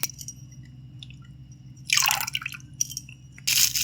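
Kewra water is poured into homemade chicken biryani, falling as a few close, wet splashes and drips in short bursts over a steady low background hum.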